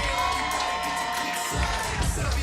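A crowd cheers and whoops for Travis Jacobs at a competitive event, a dense, sustained roar of voices with children shouting, swelling slightly near the end.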